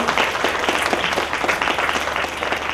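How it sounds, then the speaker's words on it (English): An audience at a film festival's short film awards ceremony gives a sustained round of applause, dense and even, with many hands clapping throughout. "give Joe a round of applause."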